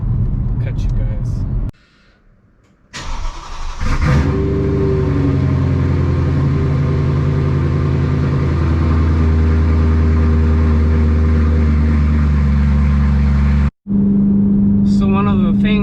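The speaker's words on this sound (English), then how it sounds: "one of the things I love about my exhaust on my E92 is you hear this drone that's going on right now" Loud, steady exhaust drone from a BMW E92 M3 while driving, a deep sustained low hum filling the cabin after brief starts and cutouts, with someone talking over it at times.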